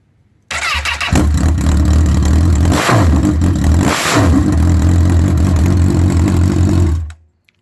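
A Honda CB1000R motorcycle engine runs without its exhaust silencer, starting with a sharp burst and then holding a loud, raw idle broken by two quick throttle blips, kept under 5000 rpm. The sound is close and harsh, with no talk.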